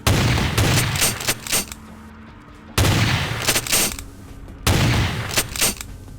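Shotgun blasts in Vampire: The Masquerade – Bloodlines come as three loud, booming shots a few seconds apart, each with a short rattling tail and a quieter stretch between.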